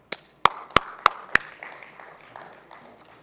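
A handful of sharp, separate claps at a conference hall during a speaker introduction, five distinct hits in quick succession, each ringing out with a reverberant tail before the room falls quiet.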